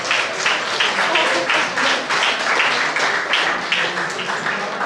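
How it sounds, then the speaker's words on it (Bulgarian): Audience applause at a ceremonial event marking 120 years of cycling in Troyan, Bulgaria, a steady, dense wash of many hands clapping that holds at an even level throughout. "Аплодисменти!"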